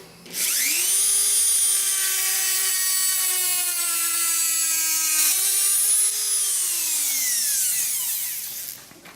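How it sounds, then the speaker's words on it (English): A Dremel rotary tool with a cutoff wheel cuts material, making a loud, high-pitched whine that holds steady for several seconds. The pitch dips under load and then spins back down at the end, with no talking. "My favorite tool for a lot of these projects is the Dremel with a cutoff wheel."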